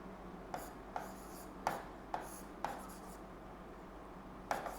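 Someone writes on a board during a class, with faint scratchy strokes punctuated by about six sharp taps spread unevenly across the quiet room, with no talking.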